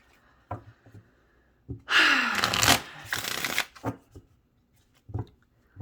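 Tarot cards are shuffled nearby in a quick riffling burst lasting about two seconds, followed by scattered taps and soft card handling in a quiet room with no speech.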